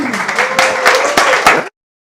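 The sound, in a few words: audience applause at a meetup talk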